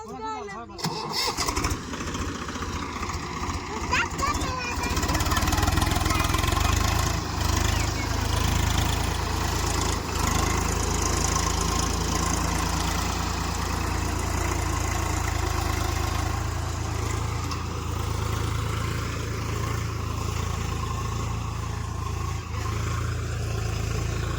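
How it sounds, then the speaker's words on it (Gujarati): A tractor engine idles with a steady low chugging rumble throughout, near and continuous, in a field, with voices faintly under it at times. "ટ્રેક્ટર આવી ગયું છે"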